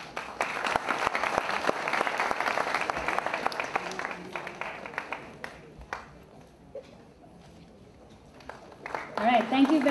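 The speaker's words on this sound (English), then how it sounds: "Let's have a round of applause for them." An audience breaks into loud, sustained applause for the panelists at a Bollywood event celebrating 100 years of Indian cinema. The dense clapping fades after a few seconds and swells again near the end.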